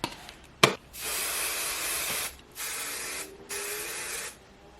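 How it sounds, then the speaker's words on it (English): Holding spray from an aerosol can misted onto a body wave wig in three long hissing bursts separated by short pauses, close and fairly loud, after a brief click. "let me get some holding spray because this is exactly how I want it"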